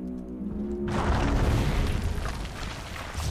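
A deep, booming explosion of a bug creature in the video game Overlord bursts in after a low musical hum, followed by a long rumbling roar that fills the rest of the moment.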